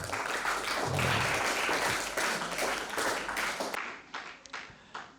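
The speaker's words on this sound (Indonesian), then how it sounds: "Tepuk tangan untuk kita semuanya" Students at a school Ramadan event at a junior high school in Glagah, Banyuwangi, applaud in a dense, sustained burst of clapping that thins into scattered claps near the end.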